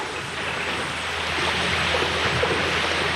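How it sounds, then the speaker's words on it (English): Water rushes out of a cave as a steady, dense roar that swells slightly louder toward the end, with no voices. "The water started rushing out of the cave."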